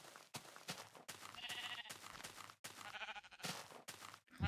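Sheep in the video game Minecraft bleat repeatedly in a run of short, wavering baa calls, close and fairly loud with brief gaps between them.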